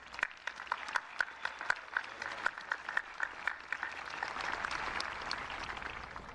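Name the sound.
graduating class applause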